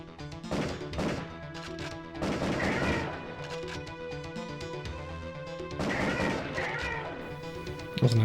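Shots and impacts from the Area 51 light gun game on PS1, clustered bursts of sharp cracks and crashes over music-like tonal background, coming in several waves at moderate loudness.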